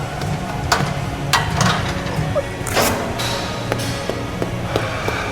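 A Smith machine rattles and clanks under a heavy 445 lb squat in a gym, with metallic knocks and thuds over a loud steady background.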